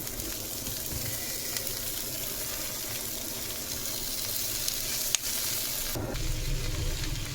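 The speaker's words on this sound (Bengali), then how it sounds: "শুকনো তাওয়ায় কতগুলো পেঁয়াজ রসুন দিয়ে নিব" Onions and garlic roasting on a dry tawa for a bharta, a soft, even crackling hiss with a faint clunk near the end, close and steady, no talking.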